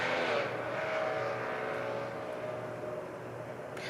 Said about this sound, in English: Did you hear the motorcycle that's still going?